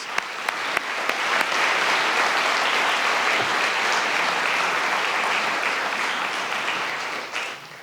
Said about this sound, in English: But they deserve a big round of applause